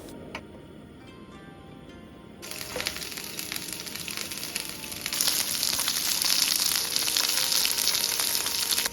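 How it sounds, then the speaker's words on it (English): Vegetables sizzle in olive oil in a frying pan, first as a quiet crackle. The sizzle grows steadily louder and denser as more pieces go in, close and continuous with no voices. "Now heat a frying pan with a bit of olive oil and grill your vegetables"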